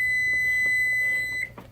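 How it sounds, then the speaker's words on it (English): A kitchen timer goes off while pasta cooks for a ricotta zucchini bake: a steady, high electronic tone sounds continuously for about a second and a half, then cuts off, leaving a low background hum. "Oh, the timer's going."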